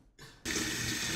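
Water gushes from a tap in a Bulgarian home while someone bathes. It starts with a soft trickle, then becomes a loud, steady rush that fills the rest of the moment.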